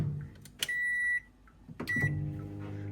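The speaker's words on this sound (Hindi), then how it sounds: "ये जा रहा है माइक्रोवेव में" A microwave oven is started with a couple of sharp keypad beeps, then its low motor hum runs quietly and steadily underneath, close by and with no voices.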